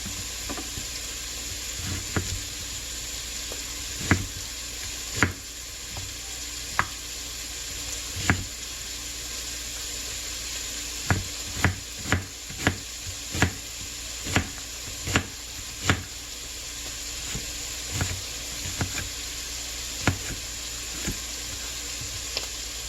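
Onion chopped on a board for a soup (zuppa), the knife giving a long run of sharp, close taps at irregular spacing over a steady sizzle from a pot nearby.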